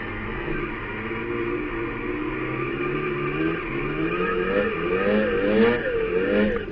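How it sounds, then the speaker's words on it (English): A drifting car accelerates and revs hard through turns with tires smoking at a stunt traction show, the engine loud and close with rising and falling pitch throughout, no talk. "smoke those tires all the way through the turns"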